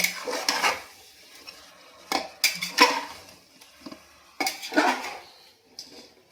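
Chicken stirred in a pressure cooker with a metal spoon: close, irregular scraping and clanking strokes against the pot in clustered bursts, with quiet gaps between.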